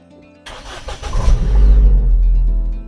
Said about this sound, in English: Let's see if we can fire the car up.